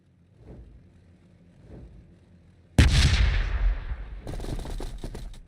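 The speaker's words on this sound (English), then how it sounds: "Did they just throw a nade at nothing?" A grenade explodes with a sudden loud broadband blast in the Warhammer 40K Battlesector strategy game, followed by sustained crackling gunfire and rapid shots; two faint thumps precede the blast.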